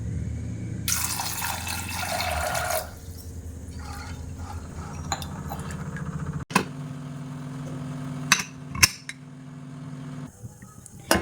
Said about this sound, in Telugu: ఇంకా ఇందులోకి అయితే కొన్ని వాటర్ పోసుకుంటున్నా